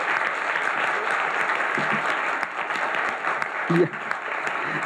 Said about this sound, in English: I think we need to also give them a round of applause for doing a wonderful job